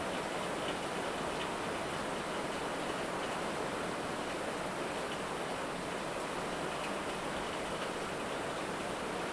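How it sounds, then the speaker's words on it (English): Heavy, hurricane-like rain pours in a steady dense broadband hiss, loud and unbroken for the whole stretch, with no voices over it. "This is the biggest rain I ever seen."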